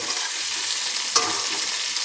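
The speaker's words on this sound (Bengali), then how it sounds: "এই পটলটা যদি ভালো করে ভাজা না হয় তাহলে টেস্ট হবে না, সেই জন্য এটা ভালো লাল করে ভেজে নিতে হবে" Pointed gourd fries in hot oil in a pan until reddish brown, giving a steady close sizzle and crackle with one brief scrape of stirring partway through.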